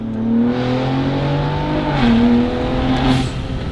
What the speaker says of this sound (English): kind of has a really knife-edged, aggressive V6 sound